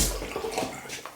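Water thrown by hand onto a man's head before shaving his beard, a soft close splash and trickle with scattered drips, fairly quiet and heard alone.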